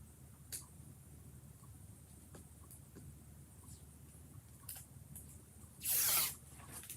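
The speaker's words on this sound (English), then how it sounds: "I'm going to get a piece of tape first." A single loud, rasping tear of tape pulled off a roll, lasting about half a second near the end, close by, with a few faint clicks and handling noises before it in a quiet room.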